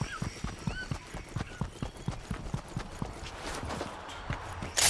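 Steady rhythmic footsteps in Fortnite thud along at an even pace for several seconds, moderately close, with a hard clattering quality over a faint background wash.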